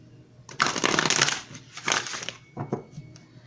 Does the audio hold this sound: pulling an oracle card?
yes